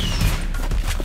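A shotgun blast from the video game Dino Golf, a short dense burst of crackling gunfire noise, loud and close, over about a second with no speech.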